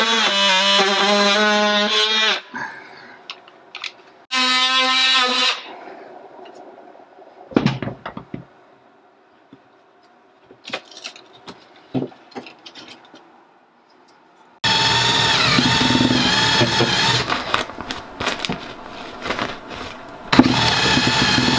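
Power drill boring through a wall stud in an off-grid cabin in Talkeetna, Alaska, in loud whining bursts with long quiet gaps between them, scattered knocks and handling clatter.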